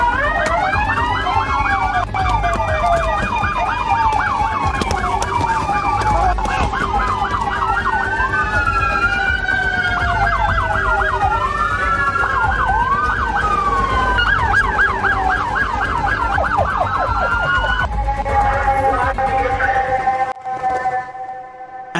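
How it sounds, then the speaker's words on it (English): Sirens from an ambulance escorted by police cars with blue lights, several wailing and yelping tones overlapping loudly and continuously before cutting out near the end. "escorted in an ambulance by 13 police cars under blue light sirens"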